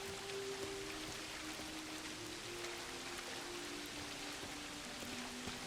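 Steady rain falls over a churchyard at night in a video game, a continuous soft hiss of drops at low volume throughout with no other sounds standing out.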